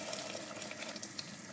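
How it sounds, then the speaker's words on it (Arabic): Water is poured into a pot of Tunisian sder cooking with spices, a soft, steady hiss and trickle of liquid that stays fairly quiet throughout. "زيدها شويه ماء"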